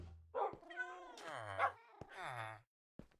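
A puppy whimpers in the Minecraft video game, giving a few high, wavering whines and yelps in close succession, clear and alone, before a brief pause and a final short yip.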